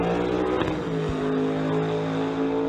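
Loud, steady engine roar from drag race cars, an S10 and a Nova in the 604 Street Legit class, idling and revving at the start line at Mission Raceway, close and continuous.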